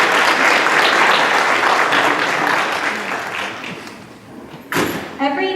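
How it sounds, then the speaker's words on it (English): Dense, loud applause from an audience at a high school National Honor Society induction, fading away over several seconds before a door thumps and a voice starts speaking. "round of applause for your parents"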